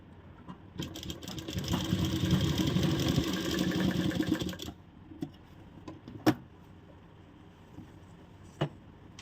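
An electric sewing machine runs a double line of stitching on a garment pocket, a close, steady mechanical whir for about four seconds that stops abruptly, followed by a few sharp clicks and handling knocks.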